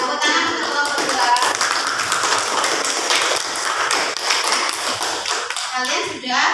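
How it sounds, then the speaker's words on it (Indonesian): A classroom group applauds after group 2 finishes its presentation, with dense, continuous clapping from many hands throughout and faint voices mixed in underneath. "Tepuk tangan untuk kelompok 2."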